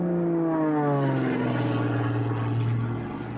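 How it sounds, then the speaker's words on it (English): An Italian pilot's propeller race plane roars through a tunnel with a loud, sustained engine drone that sweeps down in pitch as it passes, with no voices. "When the race plane shot out of the other side, the Italian pulled it into a celebratory loop before landing."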